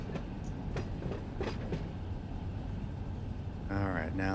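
A freight train of tank cars in a rail simulator game rolls past with a continuous rumbling roar and intermittent wheel clatter, a horn-like tonal burst near the end, no talking audible over it.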